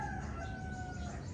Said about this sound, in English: plus the chickens, of course,